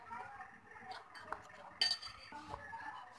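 A spoon mixes two spoonfuls of butter in a bowl for a coconut biscuit dessert, making faint, scattered clinks and scrapes against the bowl, with a sharper knock near the middle.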